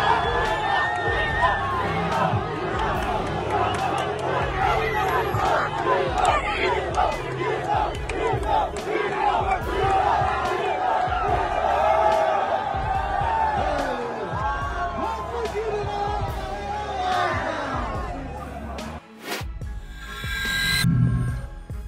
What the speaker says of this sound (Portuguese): olhem como ele foi recebido pelos fãs de Belém neste vídeo em som ambiente do local